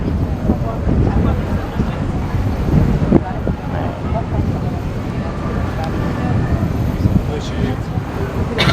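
Steady wind buffets a boat touring the waterways of Zurich on a cool, sunny day around 11 degrees, a continuous broadband rush with gusty fluctuations and a low rumble, no clear speech.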